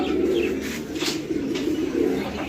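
A pigeon, a blackless-type fancy breed, coos in soft, low, repeated throaty pulses close by, with faint background noise and no talk.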